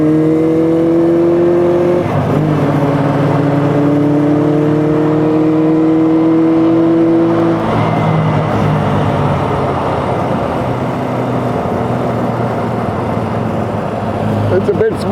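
A 1976 Honda CB400F four-cylinder motorcycle riding on the road, its engine droning loud and steady with rising pitch sweeps as it revs through the gears, plus wind rush and some talk over it.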